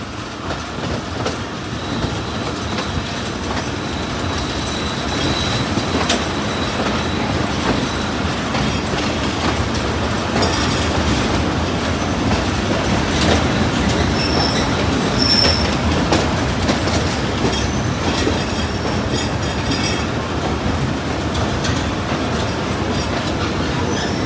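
The Mianwali Express runs at night on a rerouted section between Lalamusa and Mari Indus. It makes a steady, loud rumble of rolling wheels with a clickety-clack rhythm and faint high wheel squeals, and no one speaks.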